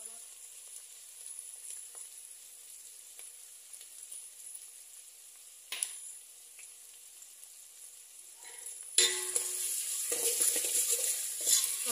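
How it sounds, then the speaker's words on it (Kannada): Onions and ginger-garlic paste fry in a pan, giving a steady low sizzle that swells into a louder, brighter crackle near the end as the paste hits the hot oil, with a few stirring scrapes. "ಈರುಳ್ಳಿ ಹಾಕ್ತಾಯಿದ್ದೀನಿ. ಈರುಳ್ಳಿ ಫ್ರೈ ಆಗಲಿ ಚೆನ್ನಾಗಿ. ಜಿಂಜರ್ ಗಾರ್ಲಿಕ್ ಪೇಸ್ಟ್ ಹಾಕೋಣ."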